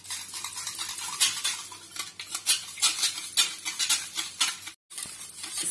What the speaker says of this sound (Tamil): இப்போ 6 முட்டை உடச்சி ஊத்திட்டுங்க, நல்லா கலக்கிக்கலாம்.